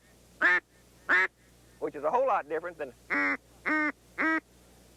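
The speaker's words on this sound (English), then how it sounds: "when I make the sound of a quack, I'm saying K, K," A hand-blown duck call gives sharp, nasal quacks, two single notes, then a fast chattering run, then three more evenly spaced quacks, loud and close.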